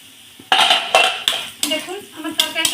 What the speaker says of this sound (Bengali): আমি ঢাকনাটা তুলে নেব।